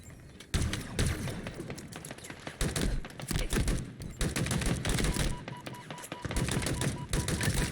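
Rapid gunfire from Halo Infinite multiplayer in a Big Team Battle match, dense bursts of shots and impacts repeating in clusters over several seconds with busy game sound throughout.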